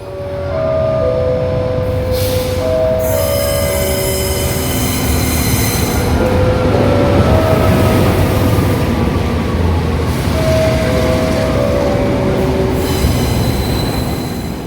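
The KA Pangrango economy class train pulls into Bogor Paledang station with loud rumbling and wheels squealing in long, shrill tones, close by and sustained throughout.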